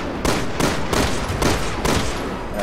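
Gunfire from the video game Resident Evil 6: about five loud, close bursts of shooting spaced roughly every third of a second to half a second, filling the whole clip.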